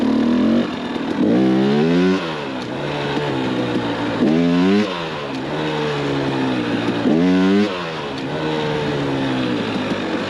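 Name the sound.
Lectron electric dirt bike accelerating in second gear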